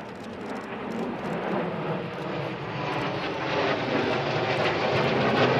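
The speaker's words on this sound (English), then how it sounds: "the MiG-29M2 joined up in the air with the Sukhoi T-50, a fifth generation fighter" MiG-29M2 and Sukhoi T-50 fifth-generation fighter jets flying together at an air show at Zhukovsky, a loud, rising jet roar swelling steadily as they pass nearer.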